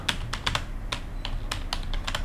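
Someone types a follow-up note on a computer keyboard in a CRM lead management program, a quick, irregular run of crisp, close keystrokes with no talking.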